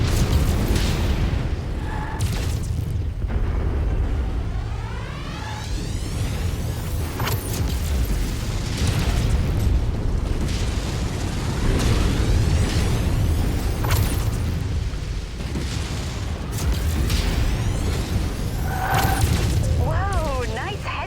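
Missile impacts and blasts in the mech combat video game Mechwarrior 5, a dense ongoing barrage of booms and bursts with radio-style voices and electronic alert tones over steady battle rumble.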